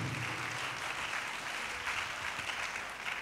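A church congregation claps steadily and loudly while praising God, a dense, continuous wash of many hands with no voices standing out.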